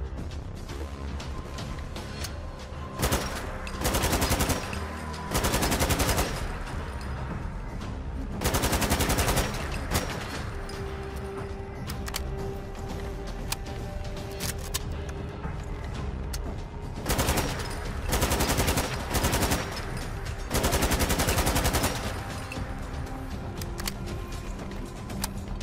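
Three Russian assault rifles, the AK-74M, AKM and AK-12, fire in a Fallout 4 weapon mod as loud bursts of rapid automatic gunfire, several separate volleys with short pauses and quieter handling noise between them.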